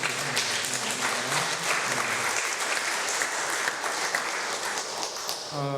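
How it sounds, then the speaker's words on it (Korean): Applause from a congregation at a church thanksgiving service for an installation ceremony, a dense sustained clapping crowd nearby that fades out toward the end, with brief voices at the close. "박수해 주시죠"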